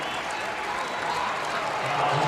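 Steady crowd applause fills the arena at a women's college basketball game, Middle Tennessee Lady Raiders against Louisville, a dense continuous wash of clapping and murmur with no break.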